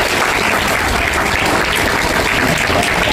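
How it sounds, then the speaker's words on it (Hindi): Steady, dense clapping from a sizeable school audience at a food safety street play event in India, loud and continuous throughout with no pauses. "उनके लिए उनका तालियों से अभिवादन करेंगे"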